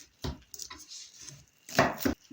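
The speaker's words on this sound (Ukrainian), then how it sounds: "Саме перше, що нам потрібно зробити, це нам нашинкувати нашу капусточку." A knife shreds cabbage on a cutting board in a quiet kitchen, a few short, crisp crunching cuts separated by brief pauses.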